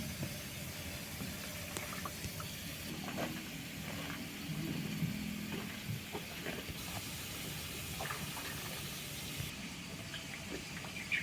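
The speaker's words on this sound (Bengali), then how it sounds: "এখন জল ভরা হচ্ছে" Water rushes into drums of pesticide mix on a Malaysian palm oil plantation, a steady hissing pour layered over low machinery rumble throughout, with no voices.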